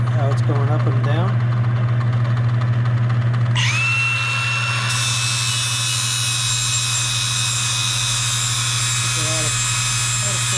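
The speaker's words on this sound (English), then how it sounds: "So I'm just using my angle grinder, just letting it follow how it's going up and down." An angle grinder cuts into the body of a 1955 Chevy, a loud continuous high whine that rises in pitch a few seconds in and holds steady over a low motor hum, with a voice talking underneath.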